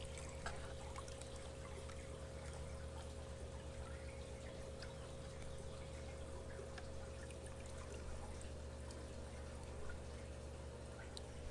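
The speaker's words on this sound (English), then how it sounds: "Got a nice little drip." Water trickling and dripping steadily through airline tubing into a container while new saltwater fish are drip-acclimated, a continuous close, soft watery patter over a constant low hum with no talking.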